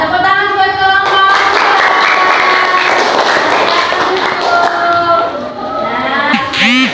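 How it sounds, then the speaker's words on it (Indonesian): Classroom applause for a student group, with children's voices and clapping mixed together throughout, ending in a brief noisy burst. "tepuk tangan buat kelompok."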